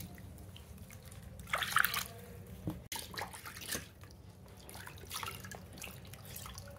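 Water pours and drips from a small shower-like spray onto a child's bathing area, a steady splashing trickle with a brief louder burst near the start.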